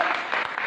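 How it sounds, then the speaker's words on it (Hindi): Applause from a church congregation during a Hindi-language sermon, a brief burst of steady clapping filling the room without a break and no speech over it. "ताली तो बजाओ।"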